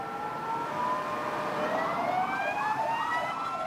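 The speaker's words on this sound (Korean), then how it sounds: "멀리서 사이렌 소리가 들려온다." A siren wails in the distance in an active war zone in Ukraine, its pitch rising and falling steadily over a low background rumble, with no voices.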